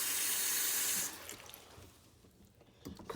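Tap water runs steadily into a sink while plum leaves are washed, a bright rushing stream for about a second before it is shut off, leaving faint drips and handling noises.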